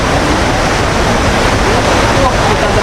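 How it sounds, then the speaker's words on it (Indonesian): The waterfall at Curug Sawer in Sukabumi, about 35 meters high, gives off a loud, unbroken broadband roar of rushing water, steady from start to finish. "Udah kedengeran belum suara air terjunnya? Curug itu air terjun ya"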